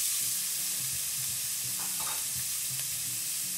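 Onions and tomatoes sizzle steadily in a frying pan, a close, even hiss with soft stirring and bubbling movements underneath, no voices.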